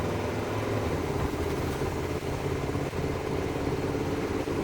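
An RV engine drones steadily as the vehicle accelerates, a continuous mid-range rumble with road noise. The sound is moderately quiet and has no talking.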